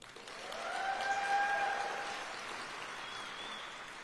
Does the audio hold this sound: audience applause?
yes